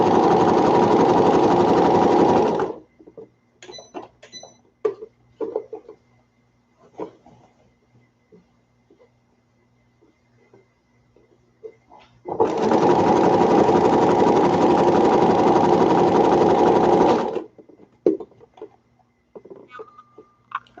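A sewing machine stitches a toddler peasant dress in two loud, steady runs, one at the start and a longer one later. Scattered clicks and fabric handling fill the quiet gap between them.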